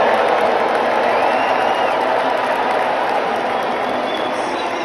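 A large tennis-match crowd jeers loudly at Donald Trump as he appears on the jumbotron, a thick, sustained roar of voices that stays dense and unbroken, with a slight easing near the end.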